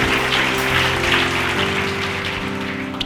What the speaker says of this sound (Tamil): கைத்தட்டுங்க ஒருத்தவருக்கு.